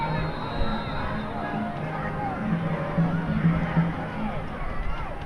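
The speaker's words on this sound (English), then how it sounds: "Giving their homecoming crowd something to cheer about tonight." Homecoming crowd at a high school football game between Second Baptist and Cypress Christian, a steady distant roar of fans cheering and murmuring in the stands, swelling slightly midway and holding without a break.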